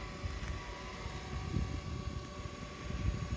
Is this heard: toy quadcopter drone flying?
yes